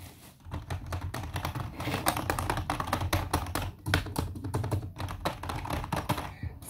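Typing on a new computer keyboard, rapid irregular clacking keystrokes close by, fairly quiet, with no talk.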